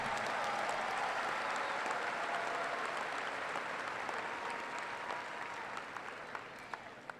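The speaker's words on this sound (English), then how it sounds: "Let's give another round of applause to our senior speakers." Applause from a large audience at a high school graduation ceremony, a dense, fairly distant wash of clapping that holds steady and then thins out toward the end, with no voices over it.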